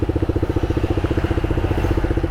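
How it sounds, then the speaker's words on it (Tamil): Motorcycle exhaust idling close by with a steady, throbbing low pulse and rapid even rhythm, loud and alone without talk. "எக்ஸாஸ்ட் சவுண்டை மட்டும் பாருங்கள் எப்படி இருக்குன்னு."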